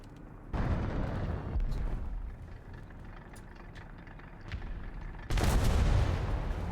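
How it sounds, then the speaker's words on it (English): Artillery strike in a tank battle game, the T-55AM-1 scenario: heavy booming blasts rumble in, first from a distance and then with a loud close impact near the end, over a steady battlefield drone. "I'm actually going to call an artillery strike on this R3 here"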